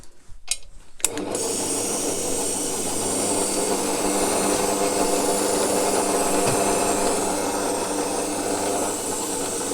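Drill running continuously through metal with a step drill bit while fitting an air reservoir tank to a Land Rover Defender TD5, a steady grinding whir close by after a few brief starts.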